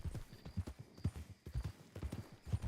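Horse hooves clip-clop at a walking pace in the Red Dead roleplay game, soft and fairly faint, in an uneven rhythm with no talk over it.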